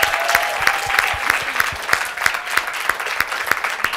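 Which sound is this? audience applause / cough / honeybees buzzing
audience applause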